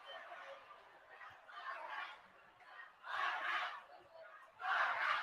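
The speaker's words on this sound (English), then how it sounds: "And so the chants begin." Crowd chanting at a high school boys basketball playoff game, rhythmic bursts of massed voices swelling and fading in waves, growing louder toward the end, heard from some distance in a gym.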